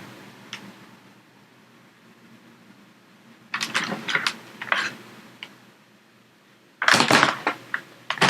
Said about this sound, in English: I'm just going to switch to a quieter keyboard because that one sounds like a hurricane's coming